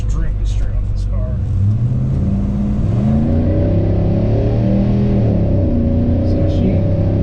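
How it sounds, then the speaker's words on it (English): A 1969 Chevrolet Chevelle 396SS roars loudly and steadily, its engine note climbing as it kicks down into passing gear and accelerates hard. "when it kicked down into passing gear, it actually broke the tires"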